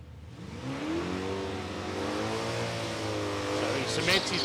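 A drag racing car makes a pass at Palmyra Raceway, its engine a loud, steady high-revving drone with rising harmonics across the run, while a commentator talks over it.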